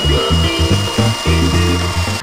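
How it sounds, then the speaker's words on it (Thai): A tile hole saw bores into a plastic car headlight housing, a loud steady grinding drone with rhythmic pulses as the bit bites and eases, close up and continuous throughout with no talk. "ก็จะใช้โฮซอร์ครับซึ่งโฮซอร์ตัวนี้ก็จะเป็นโฮซอร์สำหรับเจาะกระเบื้อง"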